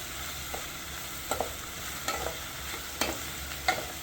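Ingredients for chicken salna sautéing in a pan, a soft steady sizzle with a few light stirring scrapes and clinks scattered through, close and fairly quiet.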